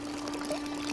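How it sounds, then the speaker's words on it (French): In the Worms Battlegrounds video game, water gushes from a shot flask in a short, steady rushing pour, moderately quiet over a faint tonal hum, with no voices. "vous pouvez tirer sur une fiole d'eau et l'eau va tomber, ça se déverse, ça fait une sorte de torrent"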